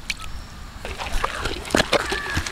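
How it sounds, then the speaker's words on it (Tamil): Wet grinder churning a lentil, onion and coconut masala with water for a drumstick-leaf kuzhambu, giving soft wet sloshing and splattering with intermittent slaps and gurgles, fairly close. "தண்ணி பற்றலினா கொஞ்சம் கொஞ்சம் தண்ணி தொளிச்சு ஆட்டிக்கலாங்க."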